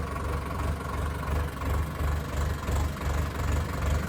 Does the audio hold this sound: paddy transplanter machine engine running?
yes